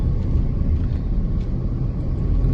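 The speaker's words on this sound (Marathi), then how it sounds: "इथे ट्रॅफिक भरपूर असते माणगावले" Road traffic in Mangaon, a continuous low rumble of passing vehicles heard from inside a moving car, with no distinct horns or voices.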